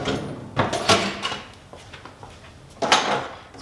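An RV drawer being opened and closed, giving a few sharp wooden bumps and sliding knocks spaced across a few seconds, close by, with no talk.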